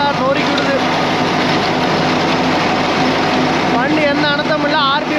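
A Sonalika 60 DI 4x4 tractor engine runs loud and steady up close with its side plates removed, holding a constant rumble, while voices speak over it toward the end.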